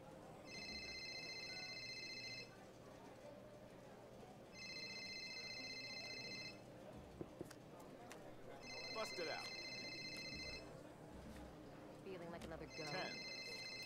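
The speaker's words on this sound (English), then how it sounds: "You got a phone call, man." A telephone rings in four repeated bursts at a casino table, faint behind a game host who calls out numbers, with clicks and other chatter in the room.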